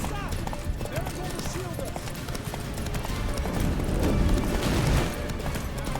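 Hooves pound in a quick, continuous gallop as Roach, the horse from The Witcher 3 game, speeds along, with voices and busy game ambience underneath.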